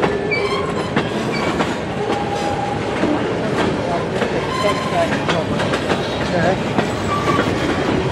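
A GM MC96 eastbound freight train rolls through Emmett, Michigan, loud and close, with rhythmic wheel clacks over the rails, metallic clanks and brief wheel squeals, while people talk nearby.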